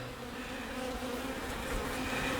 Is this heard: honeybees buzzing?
yes